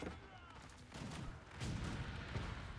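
Ozutsu hand cannons firing in battle, a run of booming blasts and rumbling reports that swell and grow louder partway through, with a faint voice underneath.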